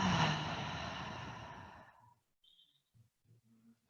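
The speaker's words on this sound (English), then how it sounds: "Giving yourself a few more super deep breaths through the nose and exhales through the mouth." One long, deep exhale through the mouth during a relaxation practice, loud and close at first and then tapering off over about two seconds, followed by faint soft breathing in quiet.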